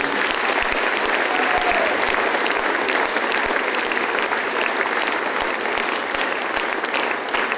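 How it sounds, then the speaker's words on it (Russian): Sustained, loud audience applause fills a concert hall at a jubilee concert in a House of Culture, steady dense clapping continuing without a break throughout. "Аплодисменты, Григорий Владимирович."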